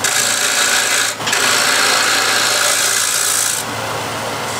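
Wood lathe spinning a bowl as the tenon is cut away, a steady loud broadband whirring hiss of the tool on wood that dips for a moment early, then continues slightly quieter to the end.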